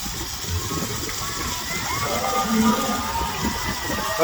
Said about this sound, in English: We're gonna step on down in the water.